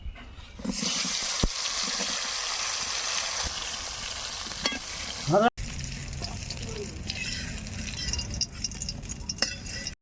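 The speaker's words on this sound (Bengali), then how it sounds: "বড়ি ভাজার তেলে বেগুনগুলোকে ভেজে নেব" Eggplant pieces fry in oil left over from frying lentil dumplings, making a steady, fairly loud bubbling hiss that continues for the whole stretch, with a brief interruption midway.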